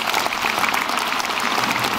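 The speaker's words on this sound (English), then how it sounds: "So let's give them a round of applause." Brief burst of thick, steady applause from the crowd at a Syosset High School graduation, honoring the teachers, with many hands clapping at once and no pause.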